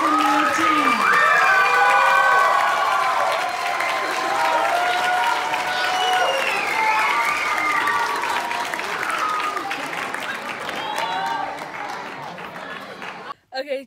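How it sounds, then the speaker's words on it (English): Applause and cheering from a crowd celebrating the graduating class of 2019 at a graduation ceremony, a dense sustained roar of clapping with high shouts and children's voices running throughout, ending abruptly at the close. "Let's have a round of applause for our graduating class of"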